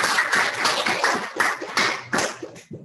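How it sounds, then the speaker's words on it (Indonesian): Several people clap together in a classroom, a quick run of about a dozen rhythmic claps that are fairly close and moderately loud, then trail off. "Tepuk tangan untuk kita dulu."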